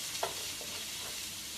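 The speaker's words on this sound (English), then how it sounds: "So I've got my onions cooking." Onions cook in a pan on a home stove, giving a steady, close, low sizzle with a few faint stirring scrapes and no voices.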